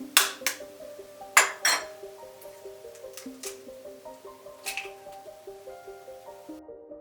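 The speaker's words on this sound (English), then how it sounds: "So let's crack open the eggs." Eggs are tapped and cracked against a bowl for red velvet cake batter, giving a few sharp clinks and knocks near the start over soft, steady background music.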